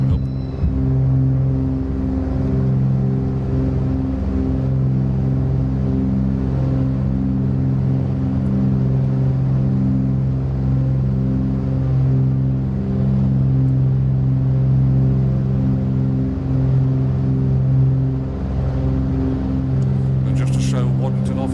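Milviz Cessna 310R twin piston engines in Microsoft Flight Simulator drone steadily at high power as the aircraft climbs out after takeoff from Waddington, a loud continuous hum with a voice talking over it.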